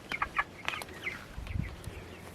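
A mixed flock of meat birds and laying hens cluck in short bursts, several sharp calls close by in the first second and softer scattered clucks after, with light rustling between.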